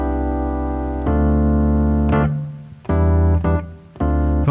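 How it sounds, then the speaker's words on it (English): Roland FA-08 workstation keyboard playing an electric piano patch: sustained chords struck in four separate attacks, each ringing and decaying alone, with no voices. "I can call up a very nice electric piano sound like this."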